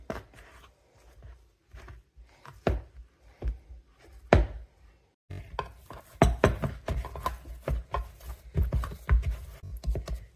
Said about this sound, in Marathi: आपण आता छान कणिक मळून घेतोय,